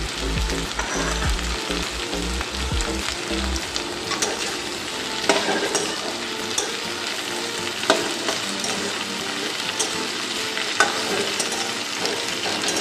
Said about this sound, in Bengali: এই সময় রসুনগুলো দিয়ে দিচ্ছি আমি।